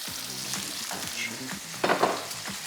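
Duck meat fries in a pan with a steady crackling sizzle, while a utensil stirs and scrapes against the metal in irregular knocks, louder near the end.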